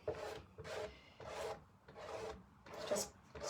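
A tool scrapes excess chalk paste off a surface in six close, quiet rasping strokes, each roughly half a second long and evenly paced, with no talking.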